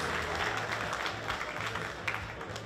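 A small audience at a competitive event claps with a modest, even patter of scattered hands that lasts a few seconds, fairly close and unaccompanied by voices.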